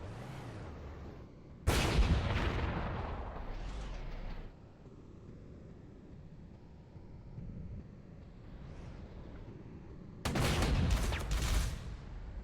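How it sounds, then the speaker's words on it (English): Heavy artillery fire in the World War II strategy game Panzer Corps 2, two loud booming barrages separated by a quieter rumbling stretch, each blast rolling off in a long decay. "let's try to nail this guy with my artillery, soften him up some"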